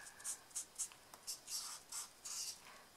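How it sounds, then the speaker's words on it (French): A marker or pencil colours a Christmas card in red, quick soft scratchy strokes in a steady rhythm, close and faint. "Et je viens simplement colorier"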